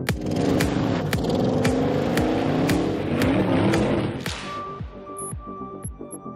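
Audi Quattro with all-wheel drive climbing a hill on a test track, its engine straining in a loud, wavering drone with clicking tyre and drivetrain noise, then dropping away to quieter ticking and knocks.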